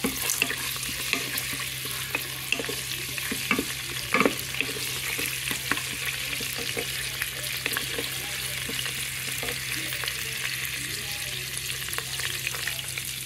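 Curry leaves with cinnamon, bay leaf, shahjeera and biryani masala crackle and fry loudly in hot oil, a dense continuous sizzle with scattered pops and spatters, steady and close throughout.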